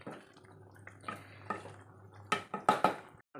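Sardine curry being stirred in a pot, with a few clinks and scrapes of a spoon against the pot that grow louder near the end, close and alone with no talking.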